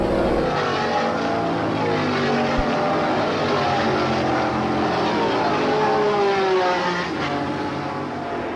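Peter Revson's number 7 McLaren Can-Am race car roars past in a sustained, loud engine drone that shifts in pitch as it races by, with no talking.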